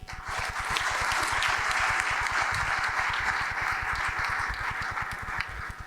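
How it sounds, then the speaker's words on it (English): A conference audience at a plenary session of the Global Bioeconomy Summit 2024 applauds a panel, sustained, even clapping with a rapid rhythmic patter that rises quickly and fades slightly toward the end. "Another round of applause for the wonderful ladies and gentlemen up here"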